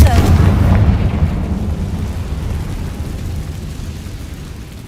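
Spell blast in Hogwarts Legacy, a loud deep boom at the start that rolls off into a long rumbling decay, fading steadily over several seconds.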